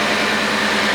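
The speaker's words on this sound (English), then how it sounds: "Alright guys, we got our engine running." A 2016 Lexus GS-F V8 idles steadily after an oil catch can install, a loud, close, even engine hum with no talk over it.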